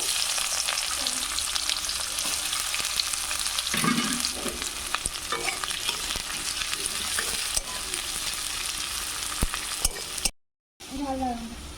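Chopped onion and crushed whole garam masala hit hot oil, sizzling loudly and steadily up close while a spoon stirs and scrapes the pan, with a brief gap near the end.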